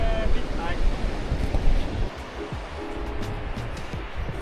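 Ocean waves at a beach at high tide wash and roll in close, mixed with gusty wind buffeting the microphone, with a voice briefly heard over the surf.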